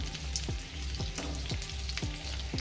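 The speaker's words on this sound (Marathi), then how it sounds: "आणि आपल्याला ना भेंडी मीडियम गॅसवर मस्त फ्राय करून घ्यायची" Okra (bhindi) frying in hot oil over a medium gas flame makes a dense, close sizzle, with regular spoon strokes roughly every half second and a low hum underneath; no one speaks.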